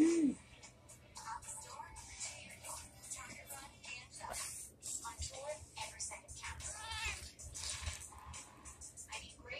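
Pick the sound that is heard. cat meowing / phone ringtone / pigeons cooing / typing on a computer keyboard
cat meowing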